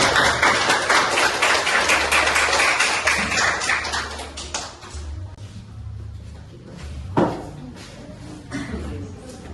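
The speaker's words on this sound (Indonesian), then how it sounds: "Tepuk tangan." Classroom applause from students rises loud and dense at first, then thins out into scattered claps and murmuring voices as it fades.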